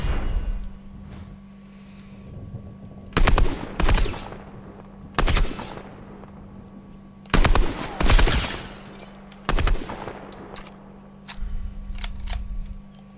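Sniper rifle fire in an Italian-commentated shooter game: about five sharp, loud bursts spaced irregularly over a steady low hum, with a softer flurry near the end.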